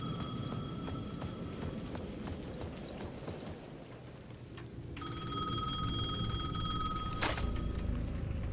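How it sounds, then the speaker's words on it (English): A payphone at the edge of a plaza in Alan Wake 2 rings out in a sharp, steady trill from midway, over a busy background of clopping and ambient noise. "The payphone at the edge of the plaza was ringing again."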